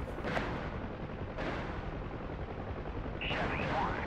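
Gunfire in a DCS UH-1H Huey helicopter flight simulator mission comes as a few sharp cracks and bursts over a constant rotor-and-engine roar, with radio-style voices nearby.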